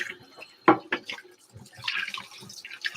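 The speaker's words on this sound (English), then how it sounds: "let me just rinse these out." Espresso cups are rinsed under running water from a tap, with splashing, clinks and trickling up close for a few seconds and no talking.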